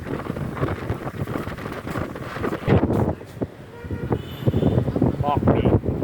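Strong night wind off the sea buffets the microphone on a shoreline with waves, a rough, gusting roar that rises and falls while voices talk over it.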